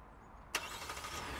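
A 2022 Kia Telluride EX starts by remote start: near-silence, then a sharp crank and catch, and the engine settles into a steady, fairly quiet idle nearby.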